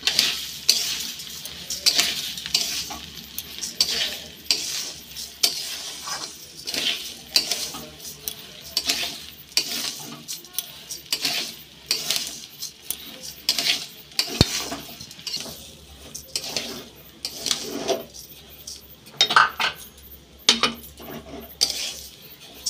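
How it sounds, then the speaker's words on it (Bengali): Rice frying in hot oil while a spatula stirs it steadily, giving repeated scraping and clinking strokes over a soft sizzle, close and rhythmic throughout. "এবার চালটা দিয়ে দেবো তেলের ভিতরে, দিয়ে চালটা ভালো করে ভেজে নিতে হবে"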